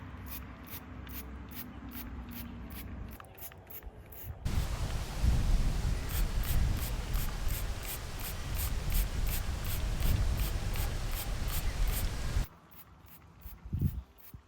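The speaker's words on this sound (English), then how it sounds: "Matt got it all sprayed." A gravestone in a cemetery is sprayed with cleaner in a long, steady hissing burst that starts abruptly and stops after several seconds, with quieter rustling before and after.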